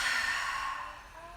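A single slow, breathy exhale during a yoga flow, fairly close and steady, fading gently over about a second with no talking.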